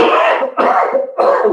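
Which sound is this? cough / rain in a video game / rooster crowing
cough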